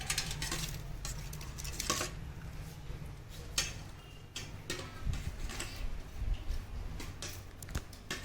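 A spoon mixes Ugadi pachadi with green mango in a bowl, making quiet, irregular clinks and scraping taps against the sides with no voices.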